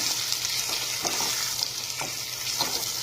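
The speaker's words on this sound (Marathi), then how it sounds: "आता थोडीशी वांगी तेलात अशी परतून घेऊया" Eggplant pieces fry in oil for a masala dish, a continuous soft crackling sizzle with a few faint scrapes of stirring, close and steady with no voices.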